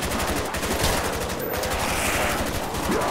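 Rapid automatic gunfire in Call of Duty Black Ops Zombies on the Kino der Toten map, a dense, loud continuous burst of shots filling the whole moment.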